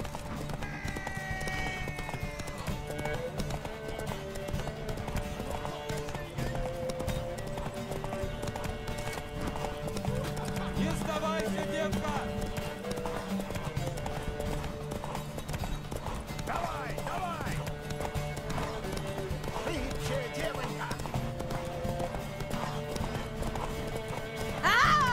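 Several horses gallop in a race across open country in The Witcher 3, steady clip-clop hoofbeats running throughout over game music, with occasional whinnies and characters talking.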